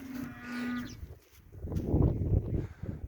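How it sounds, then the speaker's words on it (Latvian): Cows at a rural farmstead in the Latvian countryside give a drawn-out moo, then a second, lower and rougher moo follows after a short pause, both moderately close. "Tās ir govis, jā."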